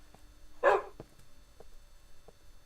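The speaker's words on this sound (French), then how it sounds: "Il y a un chien dans le coin, je crois." A single sharp dog bark rings out near the start, followed by a few faint taps and clicks in an otherwise quiet underground setting.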